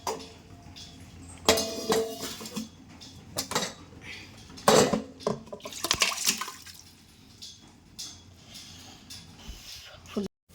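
Irregular clanking and scraping of metal pots and a spoon, mixed with wet sloshing of food being moved, close up and moderately loud.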